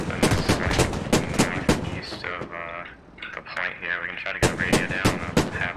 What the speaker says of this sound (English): Someone shooting at us.